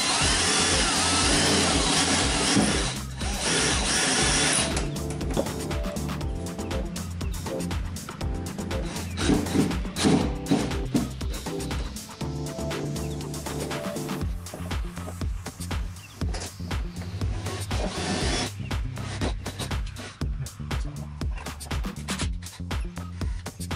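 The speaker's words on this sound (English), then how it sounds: "we have to Dremel pilot holes to screw these in on top of the 3M tape" A Dremel drills pilot holes into the side skirt of a 2015+ Subaru WRX, a loud sustained high whine that dips and surges in short bursts and stops briefly as pressure changes, close up.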